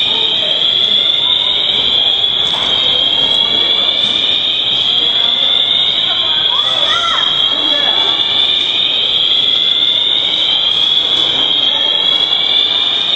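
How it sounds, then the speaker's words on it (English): A fire alarm blares continuously at Holyoke Mall, a loud, unbroken high-pitched electronic tone that fills the whole stretch, with faint crowd noise and a voice beneath it. "Once again, the fire alarm is going off at Holyoke Mall."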